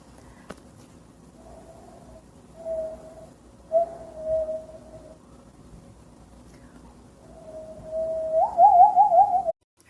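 A person whistles in imitation of a loon call, drawn-out wavering tones in several separate phrases that grow louder, ending in a rapid trilling warble, alone in a quiet room.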